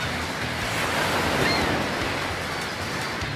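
Ocean surf along the Sydney coast rolls in as a continuous, broad wash of breaking waves with some wind rumble, fairly loud and unbroken throughout.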